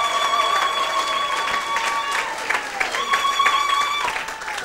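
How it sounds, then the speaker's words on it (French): Audience at a church service applauding and cheering, a steady wash of clapping with sustained voices and cries over it, moderately loud and continuous. "Donnez-lui une acclamation s'il y en a ici ce soir."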